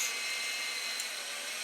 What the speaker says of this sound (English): Yes, this other fan's turning.